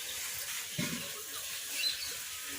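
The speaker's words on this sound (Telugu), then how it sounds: "ఈ పల్లీల్ని వాటర్లో నానబెట్టేసేద్దాం" Water is poured over raw peanuts in a bowl to soak them, making a faint, short gurgling splash close by in a quiet kitchen, with no talking.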